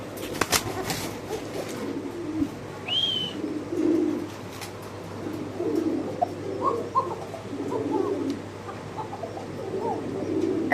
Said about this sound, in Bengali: তারা বাসায় এক জোড়া কবুতর রাখবেন ডাক শোনার লেগে।